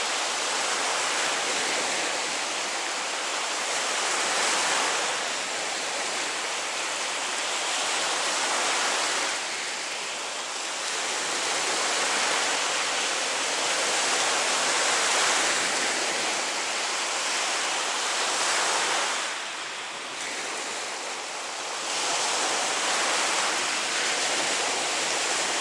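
Lake water washes steadily against the shore, a continuous loud broadband rush that swells and eases slightly every few seconds, with no voices.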